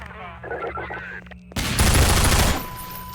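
Gunfire and a grenade blast from the virtual reality shooter Half-Life 2 VR: a quieter stretch gives way to a sudden loud burst of explosion and rapid shots lasting about a second before fading to a lingering tail.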